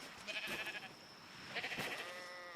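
Sheep in the ARK survival game let out two short wavering bleats, each under a second and fairly faint, separated by a brief pause with no talking.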